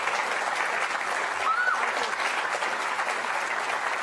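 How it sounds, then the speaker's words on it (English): An audience at a live public astronomy talk gives a big round of applause for Dr. Carol Raymond, a steady, even spread of clapping from a crowd that holds at one level for the whole stretch. "Let's give Dr. Carol Raymond a big round of applause."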